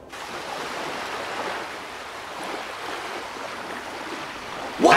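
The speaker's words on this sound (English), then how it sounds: "The waves are rocking it, not us." Ocean waves rock a pirate ship in a children's cartoon Peter Pan adventure, a steady broadband wash of surf and water noise that continues throughout and ends with a sharp louder splash.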